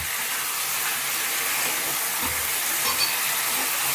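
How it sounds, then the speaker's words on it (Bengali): Thin-sliced mutton sizzles in a pan while being sautéed, a steady soft hiss that continues evenly throughout with no speech. "সুন্দরভাবে কষাতে থাকি মাংসটা।"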